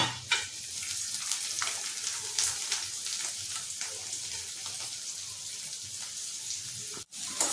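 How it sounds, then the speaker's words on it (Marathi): Sliced bitter gourd frying in hot oil with turmeric and asafoetida for a Maharashtrian bhaji: a steady, close hissing sizzle with soft stirring scrapes, briefly cut near the end. "कारले चांगले परतवून घ्यायचे, जेणेकरून तेलातून त्यांना छानपैकी भाजून घ्यायचे"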